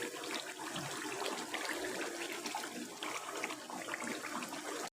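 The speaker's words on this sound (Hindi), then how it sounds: "अब इसमें 1 किलो पानी ऐड करेंगे" About one litre of water pours steadily into a pressure cooker holding beef, a continuous splashing gush that stops abruptly at the end.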